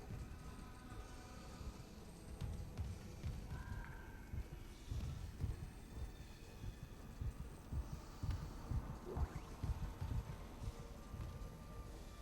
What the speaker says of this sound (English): I could hear her heartbeat.